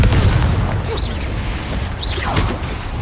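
A Confringo blast spell goes off in Hogwarts Legacy, a dull booming burst set against a steady low rumble of game ambience, with one or two whooshing magical sweeps and a faint voice in the background.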